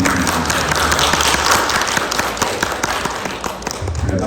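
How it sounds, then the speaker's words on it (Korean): A church congregation applauding during a Sunday worship service, dense steady clapping from many hands filling the room, loud and close for the whole stretch. "박수로 해주시겠습니다."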